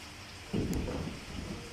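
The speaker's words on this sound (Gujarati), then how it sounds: "મધ્યમ ગતિએ વરસી રહેલા વરસાદથી વાતાવરણ રંગીન બન્યું છે" Moderate monsoon rain falls over Umargam in Valsad. It makes a steady, broad hiss with a brief, louder burst of patter partway through.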